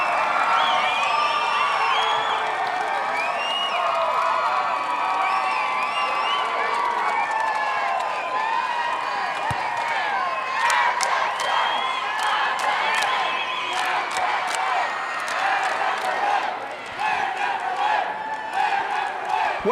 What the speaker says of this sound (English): you hear the Falcon fans in the stands cheering on